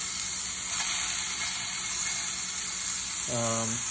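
Homemade healthy burger patties sizzle steadily and loudly in a hot pan, with a bright continuous hiss and a brief voice near the end.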